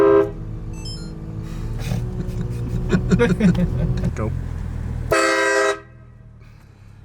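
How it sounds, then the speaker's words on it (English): A train horn fitted to a BMW E90 car gives one loud, tonal blast lasting under a second. Engine rumble and people talking come before it, and after the blast things go quiet. "Train horn on?"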